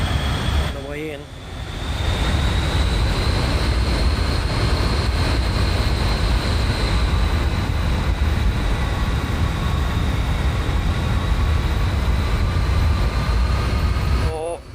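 A simulated aircraft engine drones in Microsoft Flight Simulator during a climb after takeoff, holding a loud, steady roar with a thin high whine that persists almost unchanged throughout.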